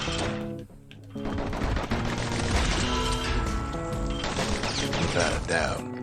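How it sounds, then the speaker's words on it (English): Dual pistols in Bastion firing in rapid, steady bursts of close shots, layered over game music and ambient effects throughout. "Show surpassing skill with the dual pistols. Quickly put 12 bullets into a single foe without missing."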